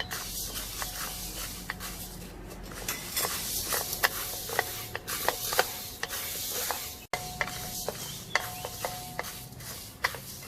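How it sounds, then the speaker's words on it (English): Coriander seeds dry roasting in a pan for fish curry powder, with scraping and stirring clatters plus light crackling and ticks in an irregular rhythm. "First, I'm going to roast my coriander."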